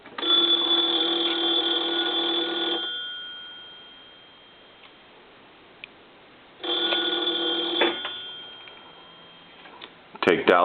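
A 3-slot payphone being repaired and converted rings in two loud, sustained electromechanical bell bursts, separated by a quiet gap, with a brief clatter at the very end.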